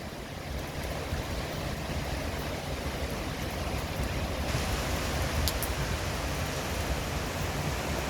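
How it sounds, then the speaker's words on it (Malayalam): Steady rain falling across Thiruvananthapuram in the evening, a dense continuous hiss with no breaks, evenly loud throughout and heard alone without voices. "മൊത്തത്തിൽ മഴ തന്നെ തിരുവനന്തപുരത്ത്"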